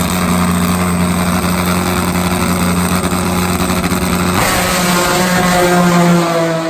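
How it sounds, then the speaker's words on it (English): A supercharged, nitromethane-burning four-cylinder drag bike at a chilly English strip gives a loud, continuous droning engine note that shifts pitch partway through and then climbs, heard alone without voices. "We begin with a supercharged nitro methane burning 4-cylinder bike"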